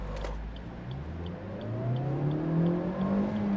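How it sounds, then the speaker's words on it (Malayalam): A 2022 Maruti Suzuki Ertiga pulls away under full throttle, its engine note rising steadily in pitch as revs climb toward a high RPM, heard loud and close with no talk. "ഇത് നമുക്കിതൊന്ന് ഫുൾ ആക്സലറേഷൻ കൊടുത്തൊന്ന് എടുത്തു നോക്കണം"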